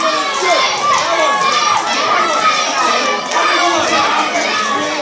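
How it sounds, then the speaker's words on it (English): Wrestling crowd at a Beat the Champion challenge event, a dense continuous roar of many voices with higher shouts rising out of it, loud and steady throughout. "Many of the crowd cheering for Slim Jim Brennan."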